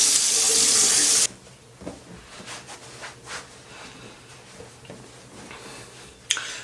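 A bathroom tap runs full and loud for just over a second while a head is rinsed, then cuts off, leaving faint handling sounds and a few soft knocks.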